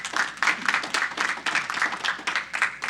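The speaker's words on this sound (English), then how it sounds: "Let's give her a round of applause also." A small crowd at a Keys to the City honor ceremony claps in a steady patter of applause, moderately close and fairly quiet, with no voices over it.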